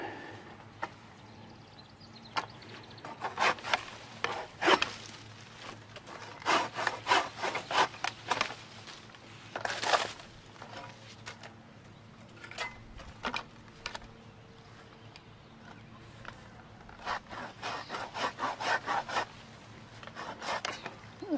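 A pruning saw cuts through a deadwood tree branch in bursts of rapid rasping strokes, close and clear, with short pauses between runs of sawing.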